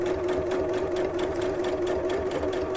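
A sewing machine runs continuously at a long stitch length, topstitching close to the edge around a hole, with a steady, close, even whir and no talking.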